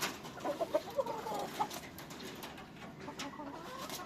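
A rooster gives a short run of clucks, faint and close, and then a quiet stretch with soft background noise.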